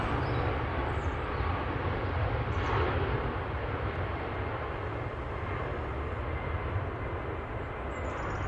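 A Ryanair airliner departing Manchester Airport for Rome gives a continuous, loud jet engine roar that holds steady throughout, broad and rumbling without pause or speech.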